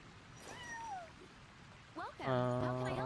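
A cat meows in Genshin Impact, first with a couple of short thin mews and then with one longer, louder meow near the end, all over faint background ambience.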